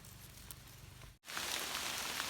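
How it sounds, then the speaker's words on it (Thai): Steady rain hisses and patters on a surface, with a brief cut midway before the downpour continues slightly louder. "ฝนก็ตกลงมาอีกแล้วครับ"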